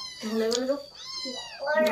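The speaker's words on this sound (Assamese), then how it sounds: "মেকুৰীয়ে এনেই চিঞৰি আছে" A cat meows loudly and repeatedly in short, drawn-out cries close by, in a village home at dinnertime, with people talking around it.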